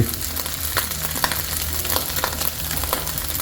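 Egg stir-fried with bacon, prawns and soy sauce gives a loud, close, continuous sizzle, punctuated by regular scrapes and clatters of a utensil stirring the pan.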